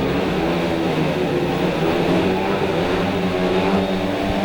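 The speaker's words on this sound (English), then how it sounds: "Bikes pick up the revs as the starting marshal walks away." Speedway bikes at a Belle Vue Aces versus Somerset Rebels meeting revving hard at the start line, a dense continuous engine roar that stays loud and steady throughout, with no speech.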